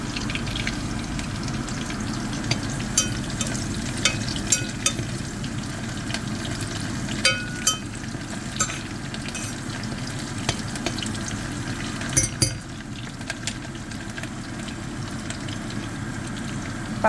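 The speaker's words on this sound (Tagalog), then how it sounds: "Pa-brown muna natin konti para maganda siya, para may amoy, may aroma ba?" Chicken feet browning in a pan for Filipino adobo, with a steady close sizzle and crackle throughout, broken by occasional sharp pops and scraping stirs.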